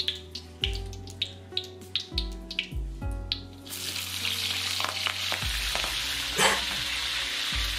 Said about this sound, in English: Cooking oil or whatever. It's oil. I like that sound. I love fried things.